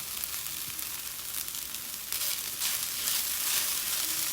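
Spring onion and cilantro being stirred into a hot frying pan, a steady close sizzle with a soft scraping mix that grows slightly louder partway through, with no talking.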